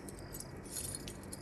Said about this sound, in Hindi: पूरी हवेली की चाबियां लगा के देख चुका हूँ,